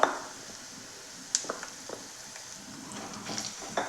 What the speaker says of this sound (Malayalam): മുറിച്ച് വെച്ച ഈന്തപ്പഴം ഇട്ട് കൊടുക്കാം അപ്പോൾ ഇതിലിട്ടിട്ട് ഇതിൽ വെള്ള ജലാംശം ഒന്ന് വഴറ്റിയെടുക്കണം